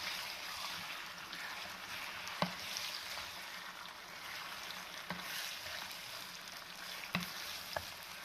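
Ginger garlic paste fries in a hot karahi with a steady, even sizzle and occasional sharp clinks and scrapes of a spoon stirring.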